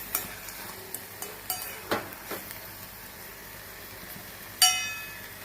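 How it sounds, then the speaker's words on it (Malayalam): Taro stem thoran with raw coconut oil being stirred in a pan, a soft background sizzle with a handful of separate spoon scrapes and clinks, the last one louder, close by with no voices. "പച്ച വെളിച്ചെണ്ണ ഒഴിച്ചു കൊടുക്കുന്നത് ഒന്ന് ഇളക്കിയെടുക്കാം"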